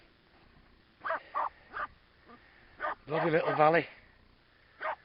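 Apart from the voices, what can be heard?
dog barking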